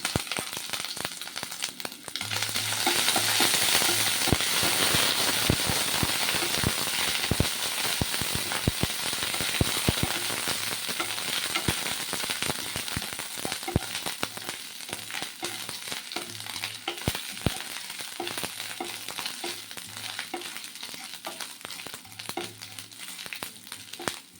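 Panch phoron and chopped ginger crackle and fry in hot oil as a tempering for vegetarian khichuri, a dense continuous sizzle peppered with sharp popping seeds throughout.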